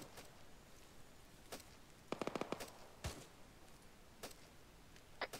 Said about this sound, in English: I love having a GPMG in the jungle.